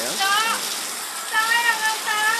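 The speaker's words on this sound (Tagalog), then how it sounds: "Napakalakas po ang ulan ngayon dito." Heavy rain pouring in a residential village in Sucat, Parañaque, a steady, loud broadband wash of falling water, while a voice talks over it throughout.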